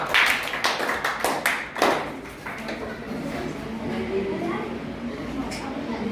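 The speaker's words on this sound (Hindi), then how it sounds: "ताली बजाओ" A class of students clapping in a classroom, a short burst of sharp, uneven claps for about two seconds that fades into quieter room noise and murmuring.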